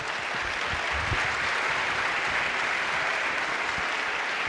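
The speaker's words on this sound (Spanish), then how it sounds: "Dale un aplauso al Señor." A church congregation claps continuously in a dense, steady wash of applause, with no voices standing out.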